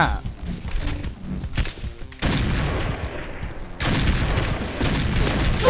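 Repeated gunfire in the shooter game Point Blank, dense bursts of rapid shots and booms layered over game noise, loud and continuous with a heavier barrage near the end.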